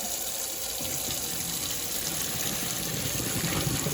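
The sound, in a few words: cold water running from kitchen tap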